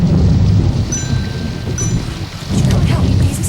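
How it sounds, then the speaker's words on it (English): A thunderstorm with heavy, steady rain hissing and rumbles of thunder swelling beneath it. The sound is loud and close, with no talk over it. "I think it's the thunder."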